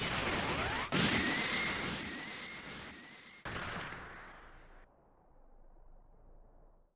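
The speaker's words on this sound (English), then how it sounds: "Special Beam Cannon!" Special Beam Cannon attack from the Dragon Ball Sparking Zero video game: a loud, roaring energy blast with a rising whine, a sharp second burst, then a rumbling fade that cuts off.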